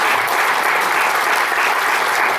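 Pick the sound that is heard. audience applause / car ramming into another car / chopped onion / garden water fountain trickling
audience applause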